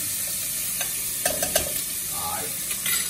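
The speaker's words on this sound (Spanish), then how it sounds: "Cebolla friendo" Onion frying and being stirred in oil mixed with fat rendered from chistorra sausage, a close, steady sizzle with a few soft scraping taps of the utensil.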